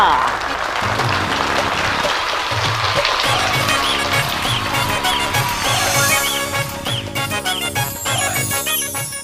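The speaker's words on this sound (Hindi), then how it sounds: "क्लैपिंग, तालियां।" Audience clapping and applause at a gol gappa competition, brisk steady clapping mixed with a loud rhythmic music track and sound effects, with the crowd noise fairly close and continuous.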